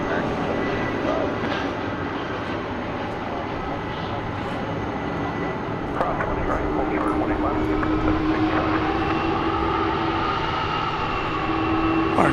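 A Delta Airbus A319 at DFW Airport at night gives a continuous jet engine roar with a steady whine, rising slightly near the end, while a voice talks over it at moments.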